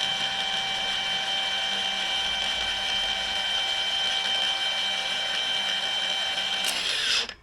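DongCheng DCSM04-125P 5-inch cordless angle grinder spinning at its lowest speed setting, a steady loud whine with a constant tone that holds throughout and winds down at the very end, with no talking.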